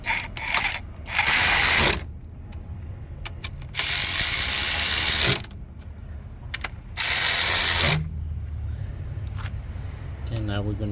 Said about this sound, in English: now we're gonna snug them up with the ratchet